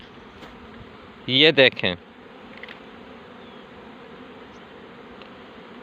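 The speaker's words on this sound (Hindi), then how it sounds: "अब मैं आपको मक्खी दिखाता हूँ कि मक्खी किस तरह से ज़बरदस्त शौक से काम कर रही है" Honeybees buzz steadily at a beekeeping farm hive, a dense, continuous drone that holds for the whole stretch, broken briefly by a short spoken phrase near the middle.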